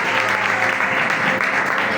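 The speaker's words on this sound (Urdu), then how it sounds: "میں دعوت دوں گا اپنی زوردار تالیوں میں" Loud, sustained applause from a church congregation at a Sunday service, a dense continuous wash of clapping hands with no pauses.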